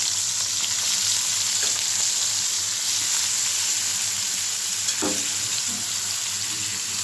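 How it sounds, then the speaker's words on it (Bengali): Goat liver fries in hot oil seasoned with turmeric and salt, giving a continuous close sizzle with a couple of brief stirring scrapes partway through. "এখন খাসির কলিজাটা ভেজে নিব।"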